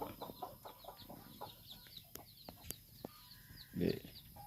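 Chickens clucking inside a coop on a small farm, a steady scatter of soft, close clucks and chirps with one louder squawk near the end, no talking.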